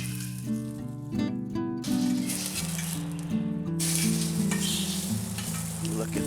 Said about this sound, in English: I'm going to throw the pork burgers in the pan and fry them up